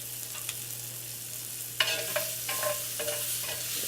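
Shrimp frying in a pan for tacos, a steady sizzle with several crackling pops and brief stirring clatters, close and alone without voices.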